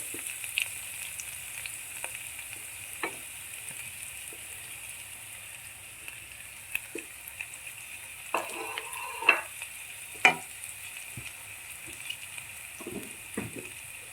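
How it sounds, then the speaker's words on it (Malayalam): Chopped onion added to garlic frying in a pan for dal palak, giving a soft continuous sizzle broken by scattered clicks and stirring clatter, quiet and close with no voices. "വെളുത്തുള്ളി ഒന്ന് മൂത്ത് സവാള അരിഞ്ഞതിടുകയാണ്"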